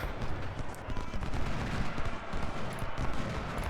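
Dense battle din from Ultimate General: Civil War, with rolling cannon and massed musket fire blending into a continuous, loud rumble of overlapping shots throughout.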